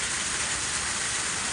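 Heavy rain pours steadily, a dense, even hiss of downpour with no breaks across the short stretch.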